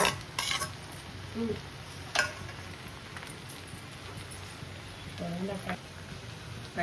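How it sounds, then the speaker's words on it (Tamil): Spoon stirring peeled boiled egg into egg fried rice in a pan, soft scraping and occasional metallic clinks under low sizzling, fairly close. "ஃப்ரைட் ரைஸில் ஆல்ரெடி நம்ம உரிச்சு வச்ச எக்கை மிக்ஸ் பண்ணி அவ்வளோதான் ஃப்ரைட் ரைஸ் ரெடி ஆக போகுது."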